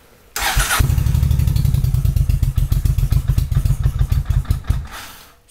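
Cold motorcycle that has sat unmoved for about a month, cranked with a booster on a flat battery: a loud whir, then rapid, uneven cranking pulses that slow and fade without the engine catching, close and alone.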